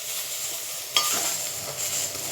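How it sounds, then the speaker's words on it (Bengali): Salted pumpkin pieces fry in a pan for a sweet pumpkin chutney, giving a soft, steady sizzle with a few brief stirring scrapes, heard close and fairly quiet without any talk. "কুমড়োটা ভাজা ভাজা হয়ে গেছে।"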